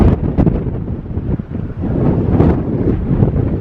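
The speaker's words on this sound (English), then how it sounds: "Now I know it's blustery, I'm sure it is." Blustery wind on a mountain road in Agua Amarga, Spain, buffets the microphone with loud, rumbling gusts that rise and fall continuously.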